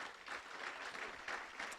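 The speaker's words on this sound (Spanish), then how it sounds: "Denle un aplauso al Señor" Quiet, distant-sounding applause from a church congregation, an even patter of many hands clapping with no voices over it.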